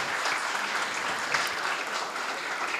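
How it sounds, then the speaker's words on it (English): A conference audience applauds the seated guests on the chair, producing a steady, dense wash of clapping that holds at an even level throughout, with no talk over it. "Please give a huge round of applause for them."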